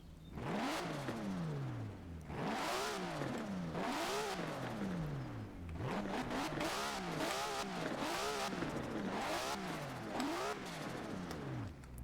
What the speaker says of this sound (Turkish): Bir motor sesini dinletelim de ayıp olmasın